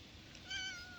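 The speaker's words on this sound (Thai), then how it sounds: "เห็นนั่นแม่เหมียว" A single short cat meow, close and clear, rising out of a quiet background.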